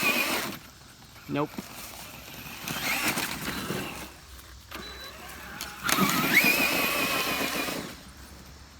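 A Traxxas Summit 1/10 RC truck with a brushless conversion drives in short bursts, a whining motor and gear grind rising and falling between pauses, with brief speech near the start.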